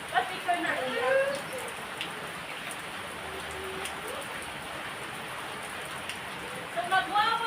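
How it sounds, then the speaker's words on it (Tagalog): Rain falls as a soft, steady patter, fairly faint and continuous, with people speaking briefly at the start and end. "Uy, nagpaulan na."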